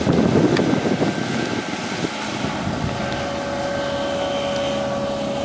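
A 1997 Chris Craft Concept 21 boat's engine runs hard at high throttle, a loud steady roar with wind and water rush, holding constant over several seconds with no talking.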